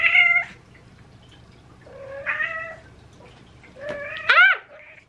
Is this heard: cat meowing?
yes